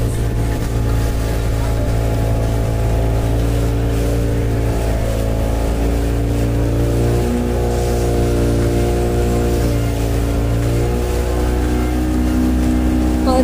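Steady outboard motor drone of a motorboat cruising on Panshet Lake, loud and constant with a slight dip in pitch midway as the boat eases off speed, water rushing beneath.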